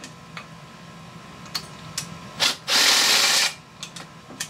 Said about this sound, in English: these bolts I'm taking out and dropping on the floor